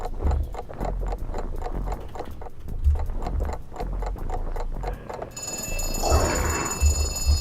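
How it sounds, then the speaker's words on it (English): In a zombie video game, a mechanical egg timer ticks rapidly and steadily, then breaks into a loud, bright metallic ringing near the end, set over low rumbling game ambience. "Get distracted by egg timer, boys."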